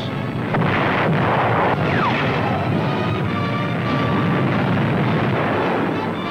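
The 16-inch guns of the battleship USS Missouri fire at shore targets, sending loud, heavy booms through a dense, constant rumble of old recording noise.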